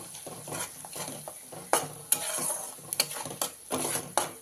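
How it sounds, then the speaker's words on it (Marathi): An onion mixture softened in a pan with red chilli powder, garam masala, salt and coriander powder is stirred, making close, repeated scraping strokes over a light sizzle. "पूर्ण मिश्रण एकजीव करून घेऊया"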